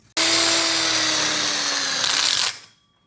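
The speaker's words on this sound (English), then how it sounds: "now we clamped it in, and we're gonna screw this in" A power drill drives a screw into the frame of an outdoor kitchen grill module, whirring loudly and steadily for about two seconds before spinning down and stopping.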